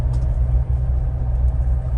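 A Mahindra Thar holds about 2000 RPM in first gear, making a steady, close, deep engine rumble throughout, with no voices over it.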